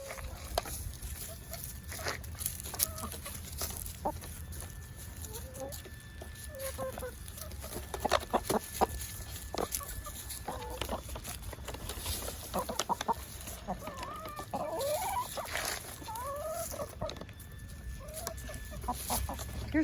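A noisy hen clucks over and over in a farm yard, with other chickens joining in. The calls come in irregular bursts at close range, and faint voices and outdoor background noise sit beneath them.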